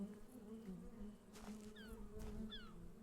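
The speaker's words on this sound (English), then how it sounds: "Bunch of bees." Bees buzz faintly in the video game Paradise Killer, a low, steady droning hum with a few brief chirping tones over it.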